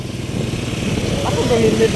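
A small motorcycle engine puttering at low, steady revs close by, with people talking over it.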